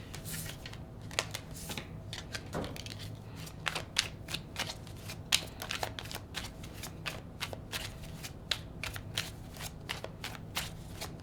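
A deck of tarot cards is shuffled steadily and close up, with a rapid riffling patter and sharp card slaps repeating throughout, and no voices.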